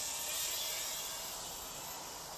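A radio-controlled model helicopter flying over a garden after taking off from a table gives a continuous, fairly faint buzzing rotor and motor drone that holds steady throughout.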